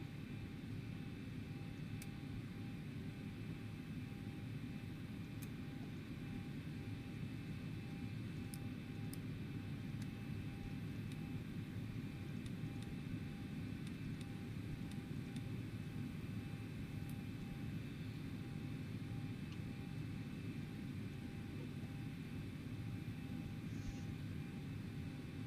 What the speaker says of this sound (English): Go ahead and flip on the APU again.